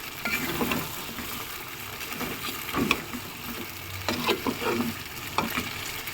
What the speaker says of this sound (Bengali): আমি মাংসটা আজকে হাঁড়িতে এইভাবে করে সুন্দর করে কষাই নেব।